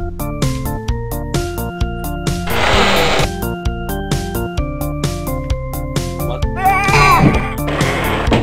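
Goat bleats in the retro first-person shooter game Super 3D Noah's Ark, repeated bleating cries over game music with steady beats, loudest in a couple of longer bursts.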